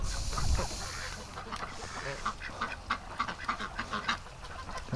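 A duck quacks in a winter outdoor setting. A series of short, rapid, rhythmic quacks sounds at close range, with a steady background rumble underneath.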